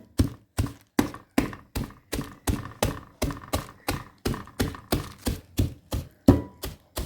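Rhythmic, evenly spaced thuds of Bela biscuits being pounded into crumbs, about two blows per second, close and fairly loud with no voices over them.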